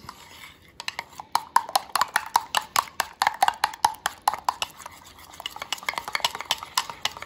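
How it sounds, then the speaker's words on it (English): Rapid rhythmic clinking of a utensil whisking crepe batter against a bowl, steady and close for several seconds. "Take about a minute or so to stir it up."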